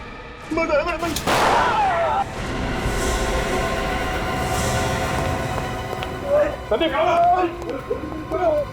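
A sharp, loud gunshot bursts out once amid a tense crime-drama scene, followed by rumbling noise and shouting voices.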